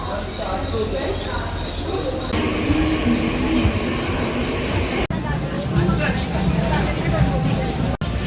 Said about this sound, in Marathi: मुंबई जायला मी आता ट्रेन पकडणार